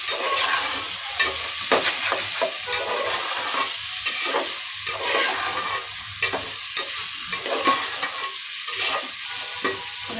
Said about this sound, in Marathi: डाळ चांगली मिक्स करून घ्यायची आहे.